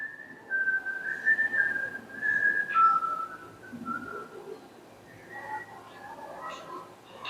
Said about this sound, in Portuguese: Esse assobiozinho do Kill Bill.